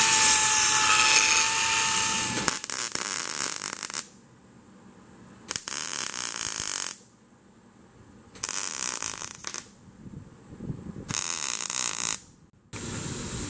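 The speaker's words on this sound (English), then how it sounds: "We'll get the welder over here" Bursts of electric welding on a Dodge car's front fender being refinished, four separate crackling, buzzing runs of a few seconds each broken by quiet pauses, close and loud.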